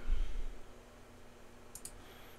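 Two quick mouse clicks close together near the end, faint against low hum, with a click earlier barely apparent, while working in GDRE Tools to recover a decompiled Tetris game project on a computer.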